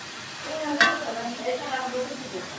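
Vegetable bhaji fried and stirred in a pan, a low steady sizzle with a sharp scraping stir near the start and soft rustling movements after, close and moderately quiet.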